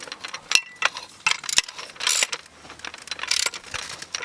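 Bolts are tightened on a brace bracket fitted to an A-frame trailer jack, with close, irregular ratcheting clicks and metallic clanks in short bursts.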